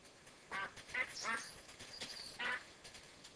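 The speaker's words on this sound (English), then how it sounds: "Ducks." Ducks in a modded video game give four or five short, nasal quacks spaced about half a second apart. They sound clear and close against a quiet background.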